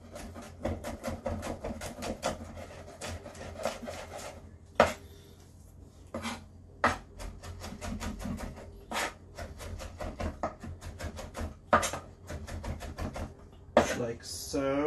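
Garlic being finely minced with a knife on a board, irregular crisp taps and scrapes, some sharper than others, close up while a voice talks intermittently.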